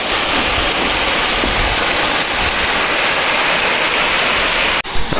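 Palongkhiang waterfall in Bandarban roars as a dense, steady wash of falling water close by, constant and loud throughout with a brief dip near the end.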